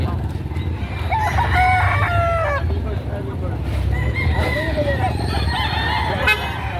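Roosters crowing loudly over a constant din of clucking and other fowl at a live chicken market in Padre Garcia, Batangas, with several overlapping crows and murmuring voices in the background.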